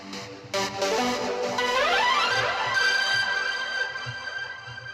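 Vital synth keys preset TSP VDB Keys plays a bright chordal keyboard phrase, sustained notes with a rising sweep and shimmering upper harmonics, backed by soft, low rhythmic thumps.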